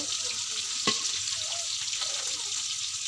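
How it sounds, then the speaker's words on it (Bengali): Dried fish and garlic paste dropped into spice paste frying in oil, a steady close sizzle with a brief soft thump as the ingredients go in. "মশলাটা কষানো হয়ে গেছে, এখন শুটকি আর রসুন বাটা দিয়ে দিব"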